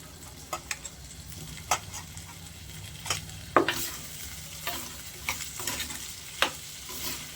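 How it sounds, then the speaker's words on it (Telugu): Potatoes with beans frying in a pan for an egg curry, a soft continuous sizzle broken by repeated scraping and clinking stirs of a spoon against the pan, close by, with no talking. "అలాగే ఆలుగడ్డ వేసుకుందాం."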